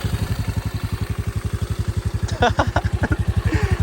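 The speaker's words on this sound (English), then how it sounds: "let you guys hear what the intake sounds like. All right, let's get this thing fired up" A 2022 Honda Navi motorcycle engine starts and thumps at a steady, rapid idle throughout, its intake loud, with brief voices talking over it partway through.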